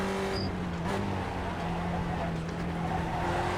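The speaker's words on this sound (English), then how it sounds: "Got off track there, car broke to the inside, but at least able to keep it from spinning out" Spec Racer Ford race car at Spa-Francorchamps in iRacing runs off the track, its engine holding a steady loud drone with a faint tire scrub as the car slides.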